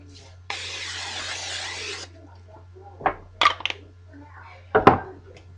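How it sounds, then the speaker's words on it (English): A cooking spray can hisses for about a second and a half in one steady burst, coating a pan before fish is cooked, followed by clinks and clatter of pans and utensils. "I need to spray the pan so my fish doesn't stick."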